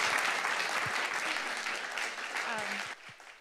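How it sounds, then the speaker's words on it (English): An audience at a community forum on a train station area applauds the presenters, a dense, even clatter of hands that carries on steadily before dropping away near the end, with faint voices underneath. "let's give them a round of applause"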